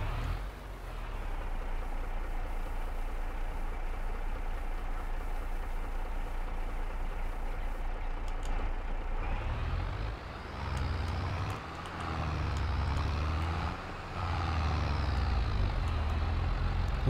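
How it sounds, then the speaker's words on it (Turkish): Tractor engine in Farming Simulator 22 laboring hard under a full load of lime, a steady deep drone that shifts and pulses partway through as the revs change. "Doldurduk traktörü zor çekiyor."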